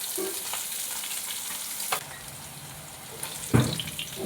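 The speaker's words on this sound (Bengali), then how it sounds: "আলুগুলো লাল করে ভাজা হয়ে গেছে" Potatoes fry in a pan with steady sizzling, broken by a few sharp clinks and scrapes from stirring, close up with no talking.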